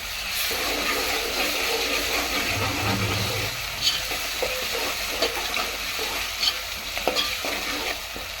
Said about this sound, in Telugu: అలా ఉల్లిపాయ ముక్కలు వేగినాయి కదండి ఇందులో అల్లం పేస్ట్ నూనె అల్లం పేస్ట్ కూడా వేగాలి